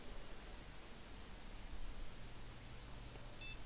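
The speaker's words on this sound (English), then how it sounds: "It beeps 1 time every time and boots every time now." A single short electronic beep sounds near the end as a gaming PC motherboard boots, a faint tone over quiet hiss and low fan hum.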